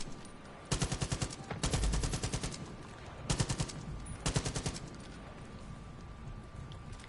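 Automatic gunfire in the video game Far Cry 5, coming in several rapid bursts of close, loud shots separated by short pauses, with no talking.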